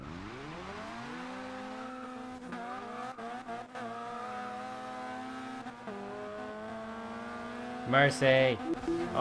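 A Mazda MX-5 with a 500+hp Super20 build in the racing game Forza Horizon 2 revs up and holds near redline, a sustained engine whine with rising pitch. Brief tire squeal comes near the end, and people talk over it.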